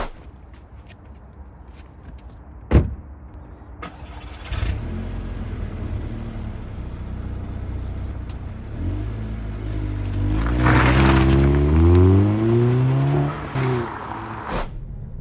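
A Mk2 Audi TT's engine starts with a thump, idles, then revs up through rising gears as the car drives off, loud and close, with no talking.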